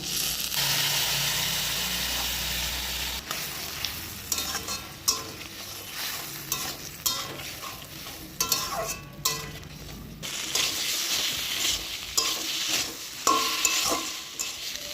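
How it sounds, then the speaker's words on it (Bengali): Ground spice paste frying in a pan, a continuous loud sizzle at first, then repeated rhythmic scraping and clanking strokes of a spatula stirring against the metal, with no talking. "ভাজা হয়ে গেছে এখন মশলাটা দিয়ে দিই এই যে মশলাটা দিয়ে দিলাম"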